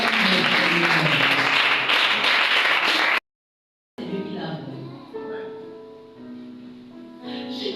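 A church congregation clapping and cheering in praise, a loud dense applause that cuts off abruptly, then a quieter passage with voices and music.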